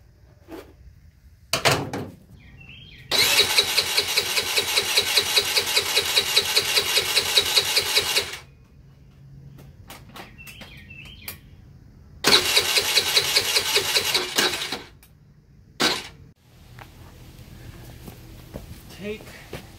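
A cheap scooter's faulty starter cranks in two long whirring bursts of about five and three seconds, near and loud, with a short clunk beforehand and quiet shuffling between attempts.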